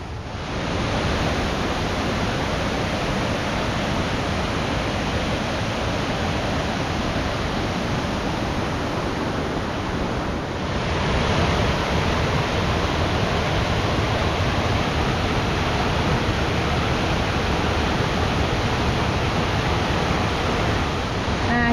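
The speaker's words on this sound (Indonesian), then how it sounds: "Nah, jadi pemandian air panasnya itu ternyata sungai panas." Hot spring river at Bajawa, a natural hot-water bathing spot where the warm stream flows openly: a steady, broadband rushing wash of water that stays loud and unchanging throughout, with no voices over it.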